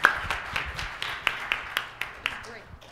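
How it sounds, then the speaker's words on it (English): Audience at a tech session applauding, a few scattered claps at an uneven rhythm, fairly light and close, with no talking over them. "if you could give a round of hand, round of applause"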